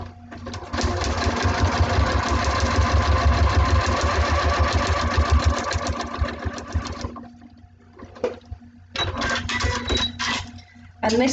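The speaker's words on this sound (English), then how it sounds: "And this one I am sewing all the way along through the seam allowance" A sewing machine stitching along a fabric seam, a fast steady mechanical chatter running for several seconds, then stopping and restarting in short bursts, close and clear with little talk.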